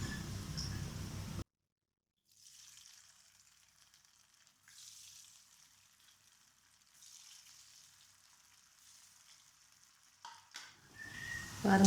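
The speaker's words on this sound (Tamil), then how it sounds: "இதே மாதிரி எல்லாத்தையும் போட்டு பொரிச்சு எடுத்துக்கலாம்." Cauliflower pieces deep-frying in oil give a soft, airy bubbling hiss that comes in gentle waves. A brief loud clatter opens the clip and a few knocks follow at the end.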